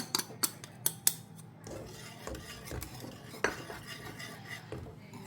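A utensil clinks and scrapes against a pan while custard is stirred and mixed, with sharp metallic taps at first and then softer rhythmic scraping, close and quiet.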